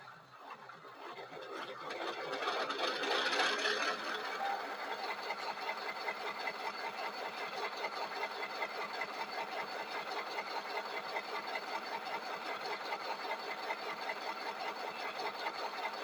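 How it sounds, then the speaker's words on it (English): Model diesel locomotive's onboard sound running its startup sequence: a faint whir rises and settles into a steady, rapid mechanical chugging idle that continues unbroken. "hopefully as soon as I put it on the rails, it goes in the startup sequence."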